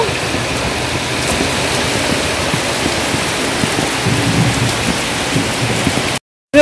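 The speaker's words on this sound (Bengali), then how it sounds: "দেখো বৃষ্টি আরও যেন বাড়ছে, বই কি কমছে না" Heavy rain pours steadily beside a railway level crossing, a dense, loud, continuous hiss of drops on surfaces that runs unbroken and cuts off abruptly near the end.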